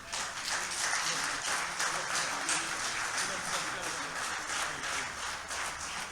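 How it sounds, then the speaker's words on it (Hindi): An audience at an international mushaira poetry gathering applauds a guest loudly: a dense, continuous wash of clapping that holds steady for six seconds, with voices faintly beneath. "ज़ोरदार तालियों के साथ।"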